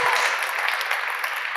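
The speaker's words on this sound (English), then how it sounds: "a giant, loud round of applause, please" Brief, dense applause from a conference audience welcomes a speaker at a web performance talk, a loud continuous wash of clapping with no pause across the short stretch.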